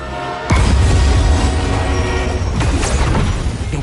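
A runaway train from Spider-Man 2 thunders along after a sudden heavy crash, a loud sustained roar with banging metallic impacts and tonal horn-like lines, no voices.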